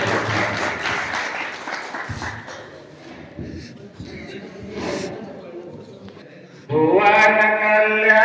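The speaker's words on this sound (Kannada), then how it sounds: "ಅವರಿಗೆ ಜೋರಾದ ಚಪ್ಪಾಳೆಗಳ ಮೂಲಕ" Audience applause at a group vachana recitation gathering rises amid voices for several seconds, then gives way to loud chanting or singing near the end.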